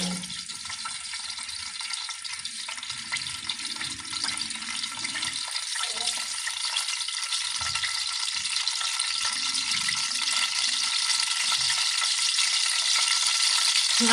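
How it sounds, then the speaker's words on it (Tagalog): Hot cooking oil sizzles steadily in a pan as afritada ingredients are sautéed, a dense, continuous hiss that holds close and loud and grows slightly stronger over time. "Painitin lang natin yung mantika, tapos igisa na natin"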